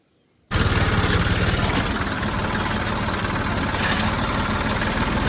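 A tractor's heavy diesel engine starts abruptly and keeps running with a steady, loud, rapid chugging thump, close by and unchanging.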